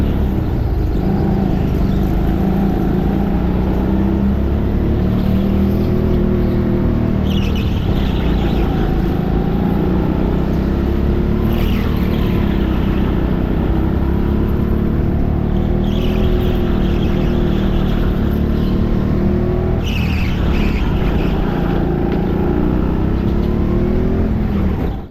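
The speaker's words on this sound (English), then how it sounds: "squealing underneath all that grip, trying to cling on" Go-kart engine droning steadily at close range through a lap at TeamSport Stockton indoor karting, with a sustained high squeal from the tyres gripping the track running underneath.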